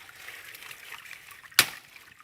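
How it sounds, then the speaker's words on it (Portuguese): Spring water trickles steadily from a mountain source in dry hills, a soft continuous wash with one brief splashy burst partway through, heard close and alone. "É uma veia, provavelmente uma veia d'água, né? Uma vertente."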